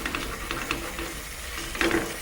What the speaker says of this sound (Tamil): இந்த தக்காளி வந்துட்டு அப்படியே லைட்டாக மிக்ஸ் பண்ணி விட்டுட்டு இந்த மசாலா வந்துட்டு லைட்டாக நமக்கு கொதிக்கட்டும்